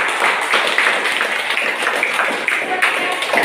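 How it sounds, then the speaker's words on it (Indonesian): A classroom audience claps for student presentations, a dense, steady patter of many hands that fills the whole stretch at moderate loudness. "sekali lagi tepuk tangan untuk"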